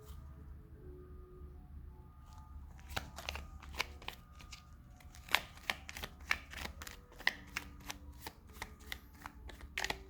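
A deck of cards is shuffled for a reading, starting with a soft hush, then a run of quick crisp riffling clicks and slaps, close and quiet, with no talking.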